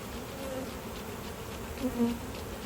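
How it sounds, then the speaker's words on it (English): Bees buzz in a continuous low drone during a hive inspection, close by, with a slight swell in loudness near the end. "we're going to take this and dispatch these bees real quick."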